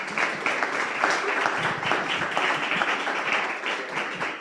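An audience at a startup and venture-building event applauds, many hands clapping in a full, steady burst that holds loud for several seconds before easing slightly.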